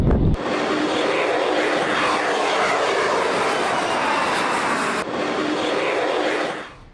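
Chinese J-20 stealth fighter jet roaring past during an air show in China, a loud continuous broadband engine roar filling the clip from start to finish with a slight dip midway.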